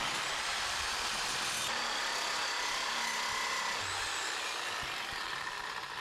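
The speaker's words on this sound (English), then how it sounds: "let's go ahead and cut that piece out. We're just going to cut it as close as we can to the top, and we'll grind it out" A power tool cuts out a metal upper shock mount piece on a Baja RZR side-by-side, a steady loud broadband whine that runs the whole time with no pauses.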